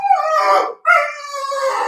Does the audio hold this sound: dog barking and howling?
yes